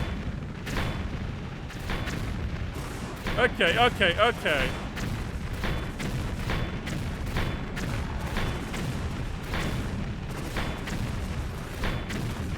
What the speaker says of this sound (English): we do actually get an honest to God's turret section with a fucking explosive cannon